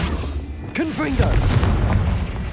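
A Confringo blasting spell explodes in the Hogwarts Legacy video game, a booming burst amid game noise. A voice calls out over the blast.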